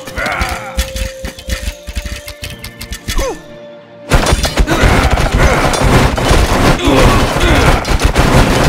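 Stick War Legacy game battle with archers loosing a volley of arrows, a dense burst of sharp shots and game effects over busy background noise that cuts out briefly before the fighting din surges back loud.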